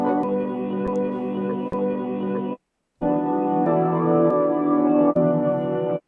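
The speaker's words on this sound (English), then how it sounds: "we actually bounced the whole melody, chopped it up," A melody bounced to audio, chopped and rearranged in an FL Studio slicer for a beat, plays as dense, loud harmonic music with a brief dropout near the middle before resuming. No one talks.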